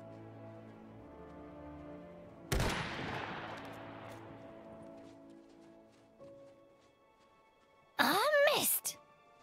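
Gunfire in the Iron Harvest strategy game: one sharp, loud shot bursts out and decays over a few seconds against a music-like backdrop, followed later by a brief whistling burst.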